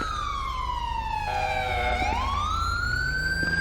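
Ambulance siren in GTA 5 during a night traffic chase, a loud, close wailing tone that sweeps down, then climbs again, heard alone over a low engine rumble.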